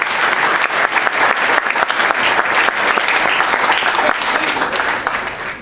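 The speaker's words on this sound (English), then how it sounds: "Please give a round of applause." An indoor audience at an India International School event applauds a guest doctor, steady dense clapping filling the room at full loudness for several seconds without a break.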